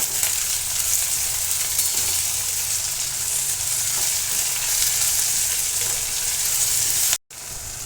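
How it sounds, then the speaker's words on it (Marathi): Chopped tomato and browned onion frying in a pan for a traditional Maharashtrian pavtyachi bhaji, giving a steady close sizzle throughout with faint stirring scrapes and a brief cut near the end. "आता याच्यामध्ये टोमॅटो टाकून घेत आहे."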